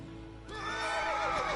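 A horse in The Witcher 3: Wild Hunt, played on PS5, lets out a loud, close whinny that rises out of low game ambience and holds as a long, wavering neigh to the end.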